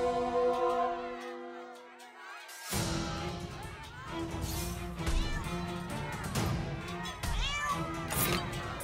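A cat in the South Park: The Stick of Truth video game meows and yowls repeatedly over game music and impact sounds, with the loud cries recurring in clusters.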